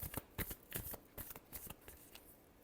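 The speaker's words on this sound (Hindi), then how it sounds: "last shuffle" Tarot cards are shuffled by hand in a quick series of crisp riffling flutters and soft slaps, close and fairly quiet, with no talking.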